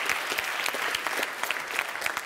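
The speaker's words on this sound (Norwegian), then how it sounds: "Men en liten applaus til hvor flink du var til å danse, da." Audience at the Amandus film festival awards show giving a dancer a brisk round of applause, dense overlapping claps at moderate volume, steady throughout.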